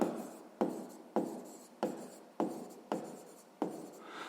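A pen scratches across paper in seven short strokes, each starting with a sharp onset and fading, evenly spaced and close, with no talking.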